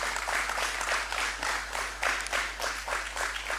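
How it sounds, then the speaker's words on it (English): Conference attendees at an Indigenous Peoples conference clap for a Ministry of Education team, a moderate, pulsing round of applause over a constant low electrical hum. "I want you to clap for them for me, please."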